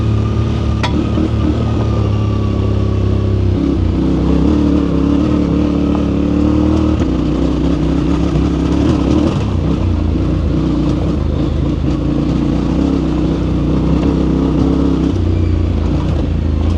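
A 2025 Yamaha Tenere 700 Rally motorcycle ridden off-road on a trail, its engine a loud, close, continuous rumble with rising and falling revs as gears shift, with no voices over it.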